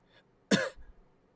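A single short, sharp cough, heard close up against near silence.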